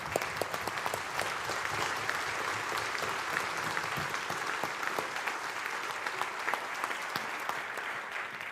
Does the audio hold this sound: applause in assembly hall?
yes